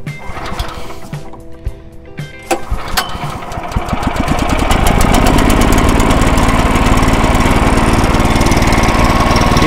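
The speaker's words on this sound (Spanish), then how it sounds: "Arrancamos el motor." A Bonasa forage chopper's petrol engine sputters through a few clanking starting attempts, then catches and settles into a loud, steady, buzzing run, close up and without speech.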